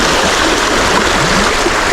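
A mountain stream rushes loud and close in cold, harsh weather, a steady, dense wash of flowing water with no pauses.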